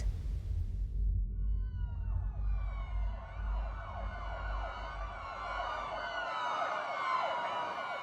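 Several state police cars race along a freeway in daytime chasing a Class C RV, their sirens wailing and sweeping in overlapping up-and-down tones that build over a deep rumble of traffic and engine noise.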